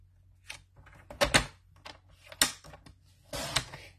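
A paper trimmer slices through cardstock while a simple stamped card is being made: a few sharp, close clacks and thunks with a brief scraping slide between them, over a quiet background.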